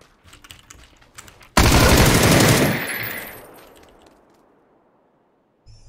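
Gunfire in PUBG on the Erangel map during a first-person duo match: a sudden, loud burst of automatic fire lasting about a second, then a long fading tail, with faint clicks before it and a soft thump at the end.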